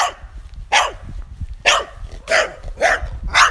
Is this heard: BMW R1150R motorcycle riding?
no